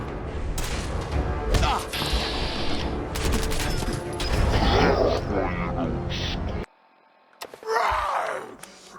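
Gunfire and combat chaos rage in Fallout 4 as gunners are fought at an entrance, with heavy continuous shooting, screams and groans, a sudden drop to near silence, then another loud burst.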